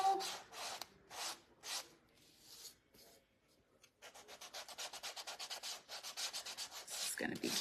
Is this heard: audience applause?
no